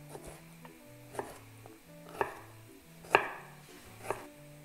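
A knife cuts lotus root into small brunoise dice for Japanese meatballs in thick sauce, landing in about five separate chops roughly a second apart on a board, each louder than the last, alone and close.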